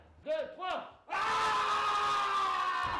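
A person lets out a long, loud liberating scream in a recording studio in Aix-en-Provence, preceded by two shorter vocal bursts, then one sustained full-throated yell held steadily to the end.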